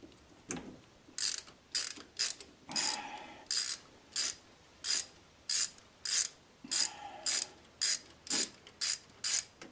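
Ratchet wrench with a wobble extension turning a 13 mm nut while installing a Pertronix distributor on a VW engine, heard as repeated short bursts of fast clicking separated by brief pauses, close and alone.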